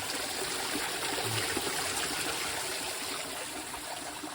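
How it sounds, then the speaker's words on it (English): Small creek in Terrace Canyon at Red Rock, running as a steady close trickle and babble of water over rocks, continuous and even throughout with no talking. "that was something else, seeing that little creek"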